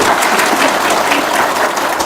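Applause from an audience at an Indonesian talk or seminar, a loud dense crowd clapping sustained throughout, close and steady.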